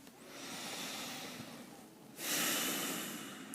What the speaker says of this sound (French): Pour ça, on commence par prendre 3 respirations profondes.